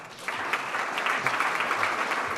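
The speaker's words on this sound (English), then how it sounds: "Round of applause for Andy." An audience at a corporate presentation gives a round of applause, a dense, continuous wash of many hands clapping at moderate distance, steady throughout with no voices standing out.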